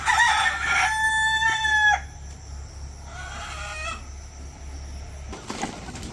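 Chickens in a village setting, a rooster crowing loudly and close, followed by softer clucking and a brief second call near the end.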